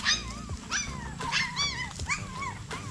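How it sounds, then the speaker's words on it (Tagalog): Puppies whimpering and yipping close by, a run of rising and falling high-pitched whines coming one after another in quick succession with short gaps between them. "Dito na mga tuta."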